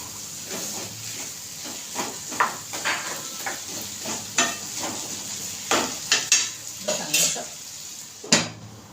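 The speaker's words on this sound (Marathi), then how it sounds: "मसाल्यावर चांगला हलवून घ्यायचं." A spoon scrapes and stirs masala in a hot pan in irregular strokes over a steady sizzle, with clinks against the metal, while cooking drumstick and potato curry.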